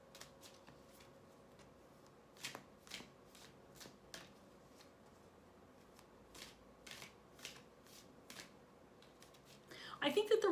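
Dreams of Gaia oracle cards being shuffled by hand, a series of crisp riffling bursts at irregular intervals close to the mic over a faint background hum, ending in a louder flurry.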